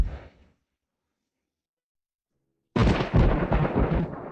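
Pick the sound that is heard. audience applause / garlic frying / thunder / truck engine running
thunder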